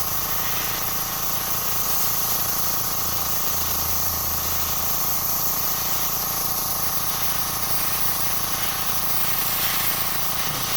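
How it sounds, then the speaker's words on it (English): Dual action airbrush spraying paint onto an elven dagger, a steady close hiss of air and paint running unbroken through the whole stretch with a faint low mechanical hum beneath. "this is a dual action airbrush, which means if I just push down the button, air comes out."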